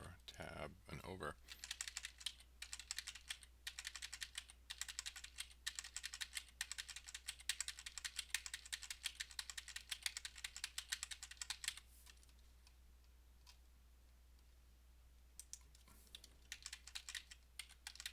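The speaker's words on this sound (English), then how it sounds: "I'm hitting the tab key 4 times and then using the right arrow" Computer keyboard keys clack rapidly and continuously during live development work on a Unity project, close and fairly loud, then thinning to sparse taps as a low hum carries on beneath.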